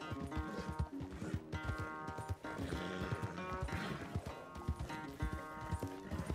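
A horse gallops and neighs in Red Dead Redemption 2: rapid, rhythmic hoofbeats pound close and loud throughout, with whinnying mixed into the running.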